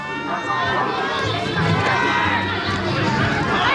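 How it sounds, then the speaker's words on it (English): Crowd noise from other rugby league games at a boys' youth tournament rises into a busy, continuous murmur of voices and calls, steady and moderately loud, with some chatter mixed in. "So you see the crowd from the other games has just picked up."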